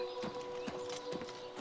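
Horse hooves clip-clop in the video game Oblivion Remastered on PS5, four distinct evenly spaced hoofbeats at a walking pace, fairly quiet over a steady tonal hum.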